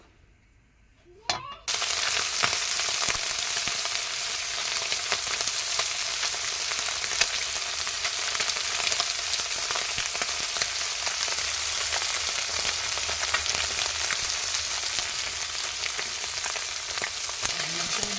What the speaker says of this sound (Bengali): এটা গরম হয়ে গেছে, এবার মাছটা ভেজে নেব।